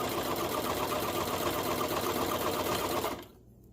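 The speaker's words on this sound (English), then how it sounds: "And you are top stitching that side there" A sewing machine runs steadily while top stitching fabric for a patchwork romper, giving a close, continuous buzzing whir that stops abruptly near the end.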